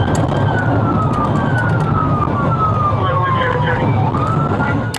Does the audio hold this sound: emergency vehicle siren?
yes